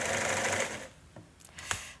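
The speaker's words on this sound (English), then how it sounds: "Her sewing machine is playing up." A sewing machine that is playing up runs steadily while stitching fabric for eiderdown covers, then stops and is followed by a few light clicks and taps close by.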